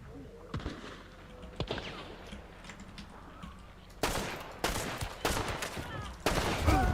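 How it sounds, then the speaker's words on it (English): Gunfire in Hunt: Showdown, with two players shooting at once: a few scattered distant shots, then a run of loud, closely spaced blasts rolling one after another over faint background rumble. "two guys shooting at the same time"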